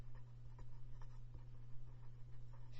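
A pen or pencil writing on paper while drawing a graph, faint soft scratchy strokes repeating over a steady low hum.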